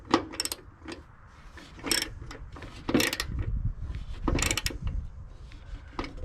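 Ratchet working bolts on a Husqvarna mower deck, giving several sharp clicking bursts spaced irregularly over low mechanical rumble, close and moderately loud.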